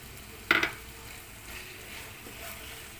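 Aloo keema of beef mince and potato stirred in a hot pan, one brief loud scrape-and-sizzle burst followed by a soft steady frying hiss, close up with no voices.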